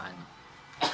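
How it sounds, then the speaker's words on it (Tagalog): A person with a lingering cough lets out a single short, harsh cough near the end, close and moderately loud, after a stretch of quiet voice sound. "Hanggang ngayon, hindi pa rin nawawala yung ubo ko."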